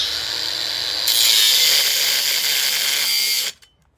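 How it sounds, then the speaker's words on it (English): An 18-volt cordless grinder with a cutoff wheel cuts through a post above a concrete footer, a loud, steady high-pitched whine and grind that surges after a second, holds for a few seconds, then stops abruptly. "I'm just gonna cut through this."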